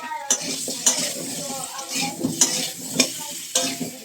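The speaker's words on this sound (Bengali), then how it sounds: "আলুর সাথে সাথে ক্যাপসিকামটাও ভেজে নিচ্ছি" Potatoes and capsicum fry in a pan under repeated stirring, a steady sizzle broken by sharp spatula scrapes and clinks against the metal every half second or so, close and fairly loud, with no talk.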